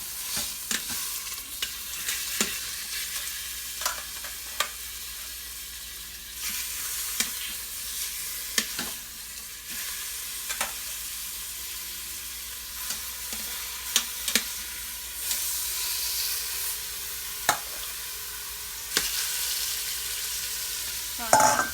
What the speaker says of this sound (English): We're going to brown the chuck roast and then remove it from the pot.